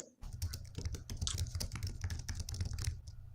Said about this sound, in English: There's some furious typing going on there.